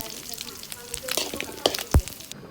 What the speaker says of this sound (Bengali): মাছটা ভেজে নিয়েছি